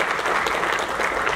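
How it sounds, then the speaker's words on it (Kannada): An audience claps steadily to congratulate actress Rachitha Ram at a film event, a dense, even wash of many hands applauding throughout. "ಚಪ್ಪಾಳೆ ಮೂಲಕ"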